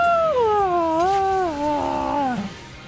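A house cat gives one long, wavering yowl close by, rising and bending in pitch for a couple of seconds before trailing off, with no talking over it.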